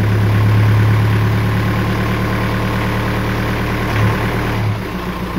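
A diesel engine idles with a steady low throb, its revs rising briefly to almost 1,000 before the gearbox engages, then dropping and settling near the end; the gearbox has an installation fault.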